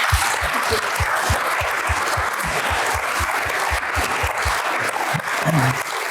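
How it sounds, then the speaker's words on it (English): A service design award ceremony audience breaks into steady, dense applause that holds at an even level for several seconds, with no voice rising above it. "Big round of applause"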